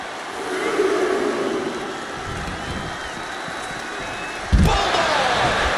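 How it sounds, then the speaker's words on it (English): A WWE SmackDown video game crowd roars steadily throughout a wrestling match, with a heavy slam-like thud near the end while commentators talk over the noise. "The WWE Universe is showing their appreciation for the action they're seeing."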